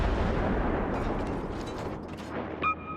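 Warship guns fire in World of Warships, a heavy booming salvo with rolling rumble that fades over a few seconds, ending in a short sharp burst.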